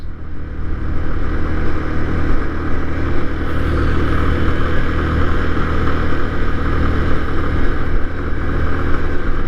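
Motorbike riding across the Padma Bridge, a continuous loud engine drone with heavy wind rush, steady throughout as the rider cruises along the road surface.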